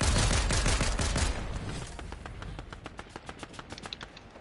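Rapid automatic gunfire in Fortnite, a dense burst of close shots that thins into a quicker string of fainter, evenly spaced cracks.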